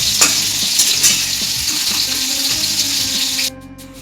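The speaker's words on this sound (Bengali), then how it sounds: "এবার শিম ভাজা হচ্ছে" Flat beans fry in a pan for a festival offering, a dense, bright sizzle with scraping stirs throughout that cuts off abruptly near the end, leaving a quiet tail.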